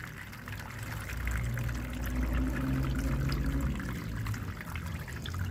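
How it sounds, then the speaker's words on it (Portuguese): Water poured from a container onto a potting substrate mixed for succulents, a steady soft splashing and trickling that continues close by for several seconds. "Vamos colocar água aqui nesse substrato."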